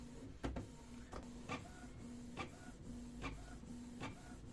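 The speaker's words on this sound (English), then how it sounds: "Now the nozzle check pattern is printing." A Canon Pixma inkjet printer running a nozzle check pattern, with a steady mechanical hum broken by about seven regular clicks and whirs as the print head carriage moves, close and moderately quiet.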